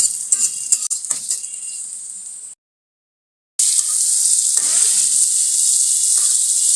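Onions frying in oil in a pan for egg bhuna give a steady, bright sizzle, cut by a sudden second of silence before the hiss resumes just as strongly.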